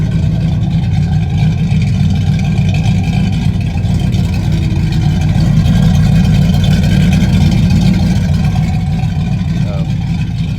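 An S10 truck engine idles steadily while warming up, a low continuous rumble close by that stays even throughout, with no talk.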